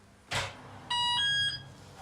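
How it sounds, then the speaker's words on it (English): A sharp electronic alarm in a commercial office building gives a quick click, then a loud, piercing multi-tone beep lasting about half a second, heard alone. "Little beep."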